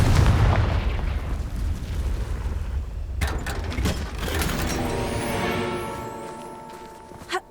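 A Confringo blasting spell explodes in the Hogwarts Legacy video game: a loud rumbling burst fills the first few seconds, then sharp mechanical clanks, a swelling whoosh and a ringing tonal tail.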